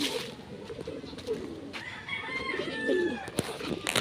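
Pigeons at a feeding spot coo softly and flutter nearby, with a rooster crowing in the background and light outdoor ambience throughout.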